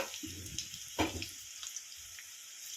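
Cumin and mustard seeds dropped into hot oil give a faint, steady sizzle and crackle, with a brief louder burst of spattering near the middle, no voices.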